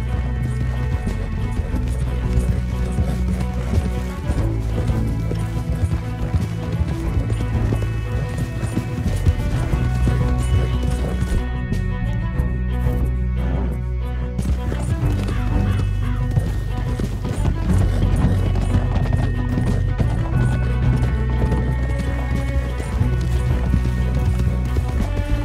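Horses gallop steadily with continuous hoofbeats over a dense, loud backdrop of music and ambient game noise, with an occasional whinny, from Red Dead Redemption 2 on PC.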